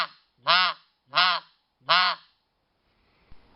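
A RedBone Snowbuzzerd snow goose call is blown in three short, loud, evenly spaced nasal half-bark honks, followed by near silence and a faint knock.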